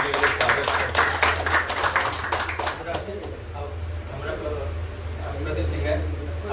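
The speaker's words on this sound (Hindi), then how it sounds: "जोरदार ताली से स्वागत करते हैं" Lively applause from a business meeting crowd welcoming a Silver Star member, dense clapping for about three seconds before trailing off into room noise and low hum.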